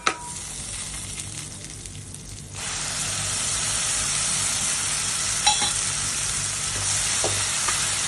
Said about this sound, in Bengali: পেস্টটাকে একটু ভাজা ভাজা করবো